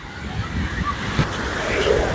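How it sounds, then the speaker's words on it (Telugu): Ocean waves at Clearwater Beach, Florida: a continuous broad wash of surf with gusty wind noise on the microphone, a steady roar with no distinct breaks. "వేవ్స్ ఎక్కువ వస్తున్నాయి."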